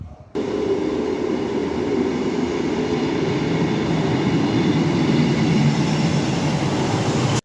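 ScotRail train at the Berwick-upon-Tweed station platform, a loud steady rumble of running wheels and engine that starts abruptly and holds close throughout, with no voices.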